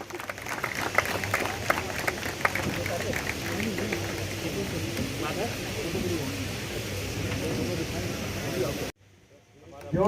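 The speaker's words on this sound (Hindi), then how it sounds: "ये एक ऐतिहासिक पल है दमोह के लिए। जोरदार तालियां।" A crowd at an outdoor public event in Damoh claps for the foundation of a new hospital OPD, steady broad applause under a loud amplified voice, cutting off abruptly near the end.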